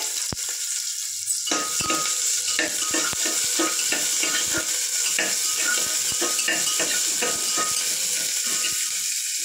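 Onions frying in oil in a pan, ready for goat fat to go in for chana dal, with a steady loud sizzle and repeated scraping strokes of a spoon stirring through, no voices.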